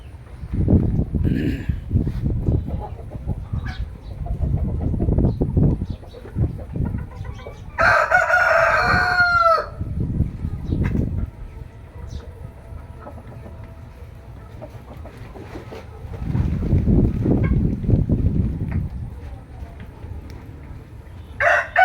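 Fayoumi hens and a rooster on a poultry farm: a close rooster crows loudly once midway, amid steady clucking and general flock noise, with a person talking at times.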